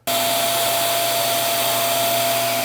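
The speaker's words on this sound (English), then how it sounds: "I happen to have this little tube connected to the vacuum," A vacuum with a small tube attached runs steadily while cleaning out a Harman P Series pellet stove, giving a loud, continuous whining hiss with a constant hum beneath it and no pauses.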